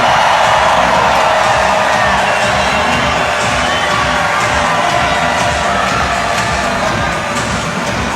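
A loud arena crowd cheers and shouts at a WNBA Finals basketball game featuring the Las Vegas Aces, a dense, continuous roar with whoops and high voices carrying through the whole stretch.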